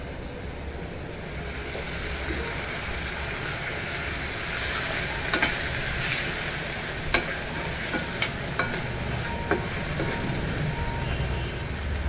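Chopped tomatoes hiss and sizzle steadily as they sauté in a hot pan, a continuous broadband frying noise with a few sharp clicks of a utensil stirring near the end.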